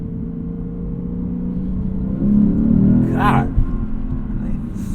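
A Lexus IS500 V8 engine hums low and steady, swelling briefly into a rev before settling back, with a voice speaking over it.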